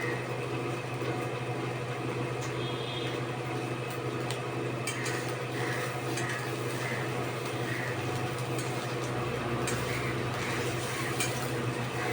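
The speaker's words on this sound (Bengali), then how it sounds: "এভাবে আমি দুখানা অমলেট ভেজে নেব" Spinach omelettes frying in a pan over raised heat, a steady low sizzle with soft crackles and occasional scraping, under a constant background hum.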